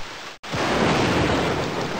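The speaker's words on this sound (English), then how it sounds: "especially when it began to rain" After a brief cut of silence, heavy rain pours down in a dense, steady hiss that stays loud to the end, in the video game Living Books: The Berenstain Bears Get In A Fight.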